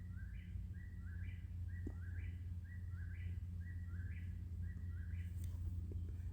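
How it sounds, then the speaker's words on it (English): A whippoorwill calls repeatedly at night, its rhythmic three-part whistled song recurring about every second at moderate distance over a low, steady background hum, with no voices. "That was a whippoorwill behind me."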